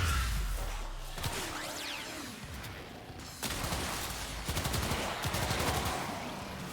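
Pistol gunfire in Warframe: several sharp shots spaced across a few seconds, each with a ringing tail, amid whooshing game effects and no talking.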